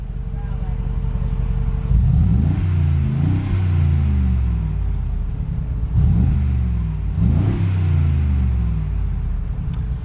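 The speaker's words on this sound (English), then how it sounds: "Let's go ahead and activate the sports exhaust." A 2020 Mercedes-Benz G63 AMG with its sports exhaust switched on revs twice in deep, loud swells that climb and fall back to a heavy, rumbling idle.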